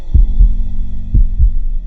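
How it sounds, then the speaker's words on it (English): A low, muffled mechanical heartbeat thumps in double beats, twice, over a steady electrical hum, deep and throbbing rather than sharp. "something stirred, a faint mechanical heartbeat"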